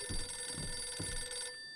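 A telephone rings inside the horror video game Visage, a repeating electronic trill with a steady high tone, faint and distant in a quiet room, sounding three times before cutting off.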